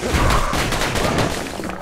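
Rapid volley of mortar weapon shots in the video game Bastion, a dense burst of booming blasts packed closely together, loud and continuous with no talking over it.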